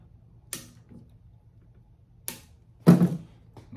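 Scissors snipping off excess racquet string after the tie-off knot, producing a few sharp, close clicks spaced by quiet gaps, ending with a louder snip and rustle.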